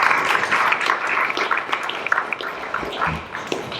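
An audience applauds steadily at a talk, with dense, moderately loud clapping that carries on throughout and thins slightly toward the end.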